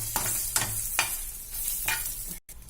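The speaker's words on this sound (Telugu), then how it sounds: "చూసారా, చక్కగా ఎండుమిరపకాయలు కూడా వేగుతున్నాయి." Dried red chillies fry in a pan for a curry leaf powder, giving a steady close sizzle broken by several sharp stirring scrapes.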